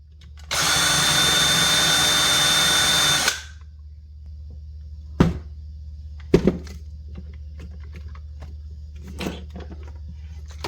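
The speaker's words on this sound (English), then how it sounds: "We're just going to drill through the plastic on the case," A power drill bores through the plastic case of a Dell 3040 computer in one loud, steady burst of about three seconds, followed by quieter clicks and taps from handling the case.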